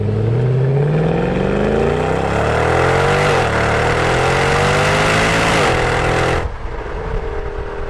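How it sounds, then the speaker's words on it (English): Mercedes CLS63 AMG with M156 engine, a 2007 car, revving loudly and close up: harmonics climb and dip through repeated throttle blips, then the note cuts away to a quieter idle near the end. "This CLS also produces a very pleasant exhaust note."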